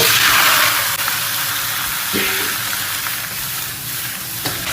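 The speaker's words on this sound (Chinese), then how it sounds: "油烧热，下锅" Shanghai bok choy sizzles loudly in hot oil, a steady bright hissing fry with faint scraping from stirring in the wok.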